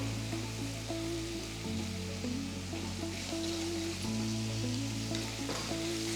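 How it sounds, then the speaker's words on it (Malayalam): Sliced onion with salt sautéing in hot oil in a pan, a steady continuous sizzle and crackle that holds close and even throughout with no voices. "ലൈറ്റ് ബ്രൗൺ കളർ ആകുന്ന വരെ സോട്ട് ചെയ്തെടുക്കുക"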